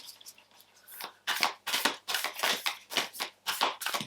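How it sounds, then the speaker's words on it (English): Tarot cards being shuffled by hand in a series of riffling, rustling bursts, close and fairly loud, each burst slapping together in an uneven rhythm with brief pauses between. "These cards are always really, really difficult to shuffle"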